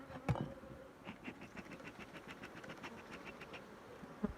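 Aggressive honey bees swarm around an opened hive after honey harvesting, their buzzing a faint, continuous drone with a couple of soft bumps, and no voices over it.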